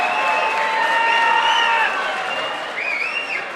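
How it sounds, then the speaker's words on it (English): Loud arena crowd applauding and cheering for two women fighters, Jada Wright and Carli Lombardo, after an Up Next Fighting bout, with steady clapping, whistles and shouts throughout. "Please give it up and show a big round of applause for these fighters right here"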